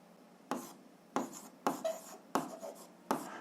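Numbers are handwritten for an algebra exercise, giving five quick, faint scratchy pen strokes in short bursts with brief pauses between them. The sound is close and quiet, with no talking.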